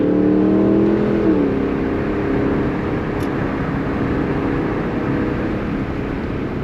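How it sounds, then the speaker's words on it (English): A 2022 Lexus LC500 LE V8 engine revs while driving on a backroad, a steady loud engine drone with a rising tone that settles early, continuous throughout with no talk. "the majority of it is the sound of this V8"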